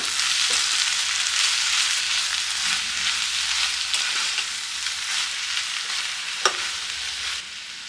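Palya vegetables being stirred and fried in a pan: loud, continuous sizzling close up, with scraping stirs throughout and one sharp clink near the end, no voices.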